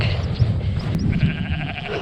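Sheep bleating on Dartmoor, a few brief calls over a steady low rumble of wind, fairly close, with no talking.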